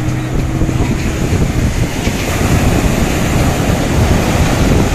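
Ocean waves breaking at Baina Beach in South Goa, a loud continuous wash of surf mixed with gusty wind buffeting the microphone, no voices.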